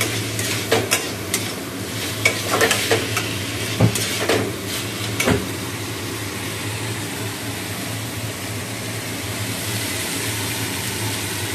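A vegetarian bean and potato curry cooks in a pan with a loud, steady sizzle, while scraping stirs clatter close by in the first few seconds. No one speaks.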